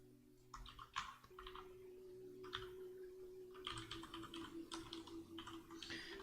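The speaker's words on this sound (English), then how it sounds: "I'm just typing something here" A computer keyboard is being typed on in bursts of quick key clicks with short pauses, faint and close, over a steady low electrical hum.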